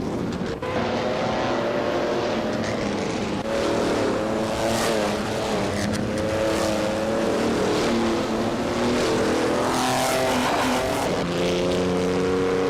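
Several video-game race cars roar continuously through a race, engines revving and shifting pitch as they jostle and overtake one another, loud and close throughout with no talk.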